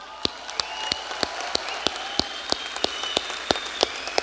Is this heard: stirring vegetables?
no